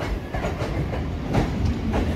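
A MEMU local train running from Asansol toward Purulia rumbles with steady rail clatter and rhythmic clickety-clack of wheels over joints, loud and continuous with no talk.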